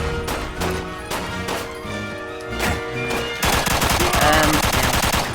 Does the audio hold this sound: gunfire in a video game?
yes